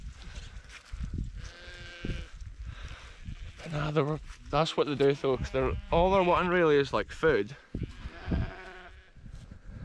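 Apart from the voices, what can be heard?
sheep bleating in a field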